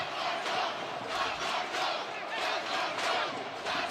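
Stadium crowd at a Tampa Bay Rowdies versus Phoenix Rising FC USL soccer match late in the game, a steady loud roar of cheering and chanting with rhythmic surges, continuous throughout with no voice on top.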